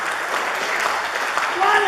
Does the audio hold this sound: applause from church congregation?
yes